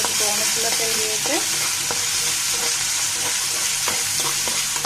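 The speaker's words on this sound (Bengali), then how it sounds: "আবারও আমি নেড়ে চেড়ে দিচ্ছি।" Pangas fish dopiyaza with pointed gourd, onion and garlic sizzles loudly in a pan, with the constant scrape and stir of a spatula over the frying.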